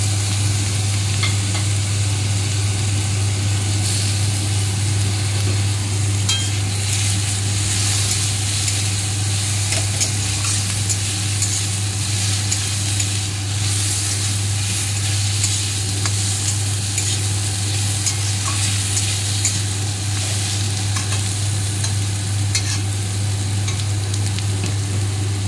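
Onion paste frying in a pan with ginger-garlic paste, a steady loud sizzle with occasional stirring scrapes, running continuously without talk.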